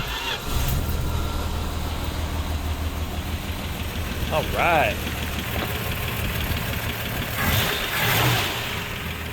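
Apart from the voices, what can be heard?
1976 Plymouth Duster engine idling with less belt noise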